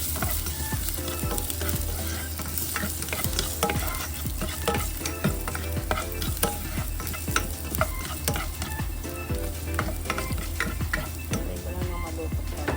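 Ginger sizzles steadily in a hot pan for a Filipino-style sautéed mackerel breakfast, a dense continuous frying hiss with frequent sharp crackles and stirring scrapes throughout, close and fairly loud.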